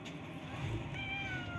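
A kitten gives a thin, high meow close by, a single brief drawn-out cry over a low background hum.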